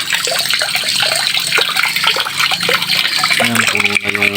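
Water pours steadily from a tap into a container, a loud, continuous rushing splash that fills the whole stretch, with the flow shifting briefly near the end.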